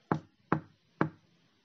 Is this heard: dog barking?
no